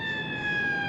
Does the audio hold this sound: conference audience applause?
no